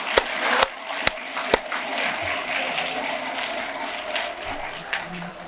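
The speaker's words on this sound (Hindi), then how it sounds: "तो बच्चों के लिए पूरी ताकत से हाथ उठाकर ताली बजा दीजिए" An audience at a children's annual function in Meerut claps for the kids, a few sharp early claps swelling into dense, steady applause filling the hall.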